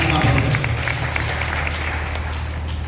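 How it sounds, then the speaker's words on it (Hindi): A seated crowd at a Shantikunj gathering claps loudly and steadily, the applause running throughout over a low hum of the hall's sound system. "अपने लिए जोरदार ताली बजाइए आपकी मेहनत का"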